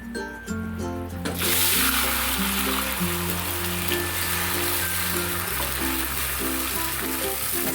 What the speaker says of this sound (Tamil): கோதுமை பாலை ஊற்றிடலாம்